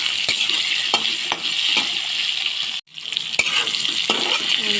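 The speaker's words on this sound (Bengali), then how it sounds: "আলুটা হালকা করে ভেজে নিলাম" Potatoes are fried with onion in a pan for an egg curry, giving a bright continuous sizzle with periodic stirring scrapes and one brief sharp break in the sound near the middle.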